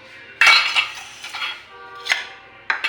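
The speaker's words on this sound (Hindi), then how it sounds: "तो ये बर्तन मैं वॉश कर लेती हूँ फटाफट से" Steel utensils and dishes clink and clatter at a home kitchen sink during washing, a few sharp close metallic hits spaced irregularly over quiet running noise, with no talking.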